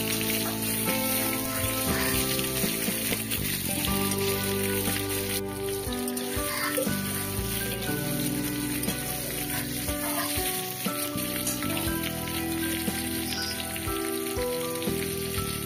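Bitter gourd (kakrol) pieces fry in mustard oil with green chillies, giving a steady, dense sizzle like rain on a surface that runs unbroken throughout, with soft background music and no speech.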